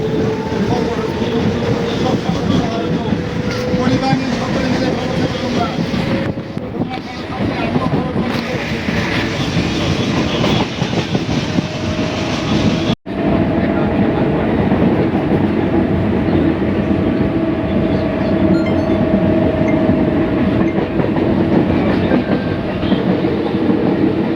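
A local train on the Sealdah to Taki Road line rolls between Kadamgachhi and Bahira Kalibari stations, with a continuous loud rumble and rhythmic wheel clatter from inside the carriage.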